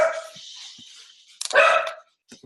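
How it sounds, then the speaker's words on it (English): A pet dog barks in a home, a couple of loud close yaps and a sustained yelping cry, with a faint short bark at the end and no talking. "There goes my dog."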